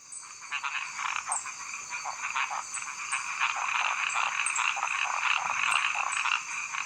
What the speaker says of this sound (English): One little male will start the call. This is an actual frog the researchers recorded, by the way.